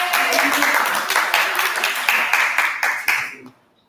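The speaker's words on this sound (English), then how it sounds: "Yeah, round of applause," A round of applause at a Women Wednesdays gathering, with dense clapping and a few cheers sustained for about three seconds before it cuts off into quiet.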